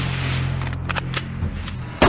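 Gunshots ring out across Dealey Plaza during the 1963 JFK assassination in archival film, a few sharp cracks over a steady low hum, then a louder, abrupt blast near the end.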